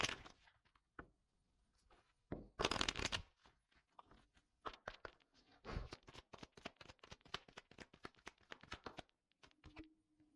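Tarot cards are shuffled and drawn close by, quiet riffling bursts and soft flicks and taps in an uneven rhythm, with a short hum at the end.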